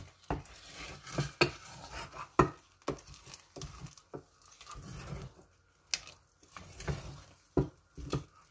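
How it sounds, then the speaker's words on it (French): A wooden spoon stirs thick placali, a cassava dough, in a pot, with a series of close, irregular knocks and scrapes against the sides, each followed by soft squishing pauses. "Alors, vous remuez le placali de temps en temps."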